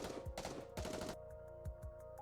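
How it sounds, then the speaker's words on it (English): Gunfire in the video game Goddess of Victory: Nikke: two loud rapid bursts of automatic fire, then a few sparse single shots and impacts over a steady electronic hum. "is promptly assaulted by a hail of gunfire to its core"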